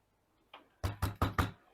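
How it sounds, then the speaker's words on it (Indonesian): A soldering iron tip is rapped against a table and a plastic surface to clean it: one light tap, then four sharp, close knocks in quick succession in a quiet room. "Kalau saya untuk solder, saya ketokkan ke meja, ke plastik ini."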